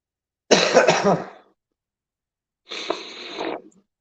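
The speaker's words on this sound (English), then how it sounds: "it's a dry cough" Two harsh, dry coughing fits close to the microphone, separated by a second of silence, the first longer and louder than the second.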